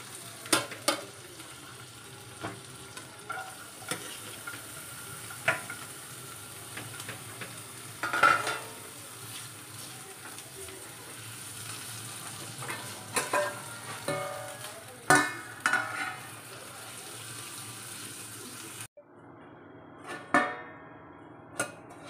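Stuffed brinjal curry bubbling and sizzling in a pan, a soft steady fry broken by intermittent clicks and scrapes of stirring, then quieter near the end.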